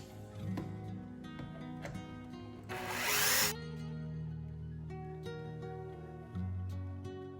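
A cordless power tool whirs in short bursts while backing screws out of a Traxxas RC car body, with one longer, harsher grinding spin in the middle and steady motor hum between.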